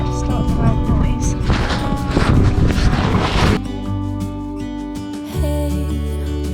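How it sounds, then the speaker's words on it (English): An inboard engine on a 38ft sailboat starts with a few seconds of loud, rough clattering, then settles into a steady, deep, humming drone that carries to the end. "Alright, guess we'll start the engine."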